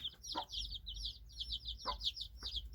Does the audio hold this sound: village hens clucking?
yes